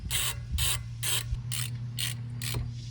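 Ratchet tightening the last brake caliper bolt on a 2013-2018 Acura ILX during a front brake job: six quick bursts of close, crisp clicking in a steady rhythm, set over a low constant hum.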